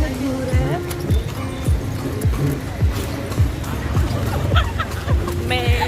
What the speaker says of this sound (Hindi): हम बैठे घोड़ा गाड़ी में